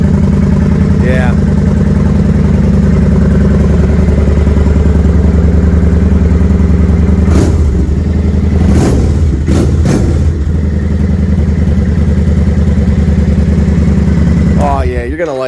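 A 2018 Kawasaki Vulcan 900 Custom motorcycle on its stock exhaust, rumbling steadily nearby and loud, with several sharp throttle blips midway and another rev at the end, while people talk over it.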